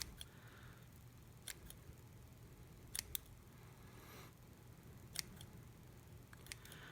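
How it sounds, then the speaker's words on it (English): Quiet, sparse snips of scissors cutting through yarn loops for a bass fishing puffball jig, a few sharp clicks spaced irregularly over a low background hum. "Just put your scissors through the loops and"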